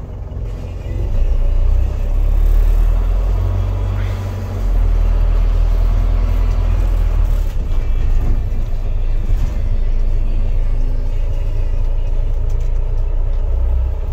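A 1992 Toyota diesel minibus drives along with a loud, steady low rumble heard from inside, broken by a brief dip in engine note, with faint talk in places.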